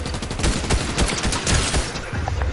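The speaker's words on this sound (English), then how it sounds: "Somebody's shooting me." Rapid gunfire rattles through a Fortnite match, dense repeated shots in fast bursts, loud and continuous across the whole stretch.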